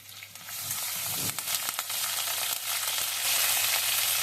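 Grated ginger, curry leaves and green chillies fry in oil after mustard seeds pop, for Andhra-style poha upma. A steady close hiss of sizzling with scattered crackles and pops runs throughout and swells slightly toward the end.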